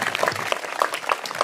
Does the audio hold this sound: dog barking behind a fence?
no